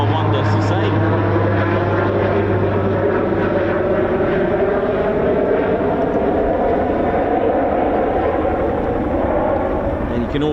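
Red Arrows aircraft at RAF Waddington taking off, a loud, continuous propeller and engine drone with a low steady hum in the first few seconds, heard from outside and sustained throughout.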